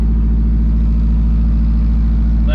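A Nissan 180SX with its exhaust unbolted idles while warming up on E85, a very loud, close, deep rumble with a fast, even pulsing beat, steady throughout.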